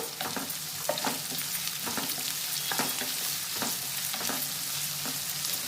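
Curry leaves frying in a pan for pulla upma, a steady close sizzle broken by regular scraping strokes of a stirring spoon, with no talking.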